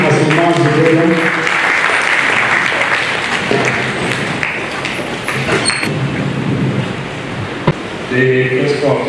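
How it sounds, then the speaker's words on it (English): A university press-briefing audience applauds as the vice-chancellor mounts the podium, a loud, dense burst of clapping that thins toward the end, with background voices and shuffling mixed in. "A round of applause for him as he mounts the podium"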